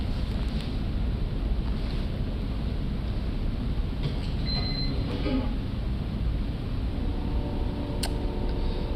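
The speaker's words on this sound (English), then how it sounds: "This has to be a long fucking train." Long train passing nearby, a steady, loud low rumble lasting throughout with broadband wind-like roar and brief higher squeals.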